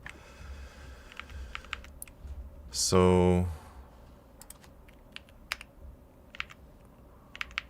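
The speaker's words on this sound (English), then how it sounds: "why am I typing when I can be using the whisper thing?" Computer keyboard typing during a web development coding session: sparse, quiet key clicks scattered through the clip, with a short spoken word partway in.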